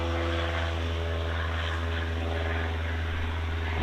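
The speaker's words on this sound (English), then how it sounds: "We've got helicopters overhead" A helicopter flies overhead, its rotor and engine making a steady, loud droning throb that continues without a break and with no voices over it.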